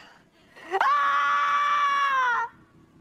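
A man lets out a single long, loud scream of despair in a zombie drama, his voice rising sharply and holding for nearly two seconds before cutting off, heard alone and close.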